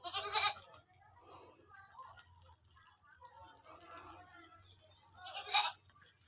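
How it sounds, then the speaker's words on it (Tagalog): Goats on a farm let out two sharp bleats, one at the start and one near the end, with a quiet voice speaking in the gap between them. "Bali ito po yung mga kambing natin mga kapits."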